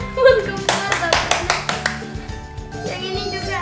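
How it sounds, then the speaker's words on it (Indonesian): A child's birthday gift unboxing breaks into a burst of hand claps, around eight sharp, evenly spaced claps close by, with voices chattering under them. "Tepuk tangan dulu, tepuk tangan."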